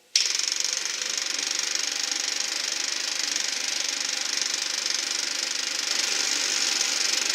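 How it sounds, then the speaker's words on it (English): A VW gas heater's fuel pump puttering steadily during a test fire with no ignition yet, a continuous even rattling hum that starts abruptly and holds at a constant level throughout. "That's the fuel pump that's making that puttering noise."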